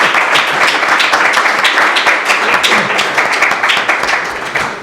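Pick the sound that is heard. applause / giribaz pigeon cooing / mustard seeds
applause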